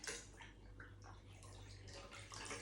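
A cleaning cloth drops into a container of clean water, giving a brief splash and gurgling water movement that continues through the short moment, close and moderately quiet.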